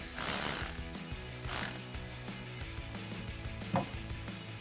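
A hand ratchet fitted with a 10mm socket works on the negative battery terminal of a 2013-2018 RAM 1500 pickup, giving close, rapid clicking in short bursts between back-and-forth strokes.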